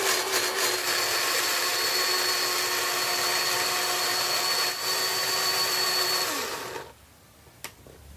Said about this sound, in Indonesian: langsung saya haluskan menggunakan blender seperti ini